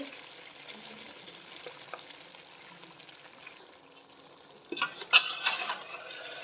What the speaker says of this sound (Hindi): मिक्स करेंगे इसको अच्छी तरह।